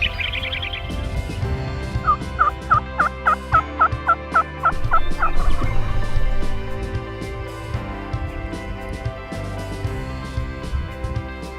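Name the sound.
wild turkey gobblers gobbling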